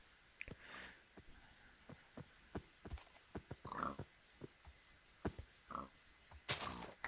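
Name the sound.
pig grunting in the video game Minecraft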